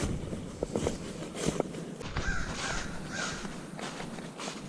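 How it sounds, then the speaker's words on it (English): Crows caw from the trees along a forest trail, several harsh calls in a loose sequence, with crunching footsteps of a walker up close. "the crows aren't too happy with me, disturbing them"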